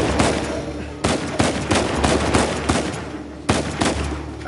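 Gunfire in the PS4 game Uncharted 4, played with keyboard and mouse: sharp bursts of shots, several distinct loud cracks spaced irregularly over continuous game noise.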